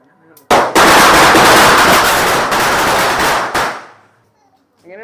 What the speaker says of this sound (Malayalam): നമ്മളിങ്ങനെ മാലപ്പടക്കം പൊട്ടിക്കാൻ വേണ്ടിട്ട് ഇങ്ങനെ വരികയാണ്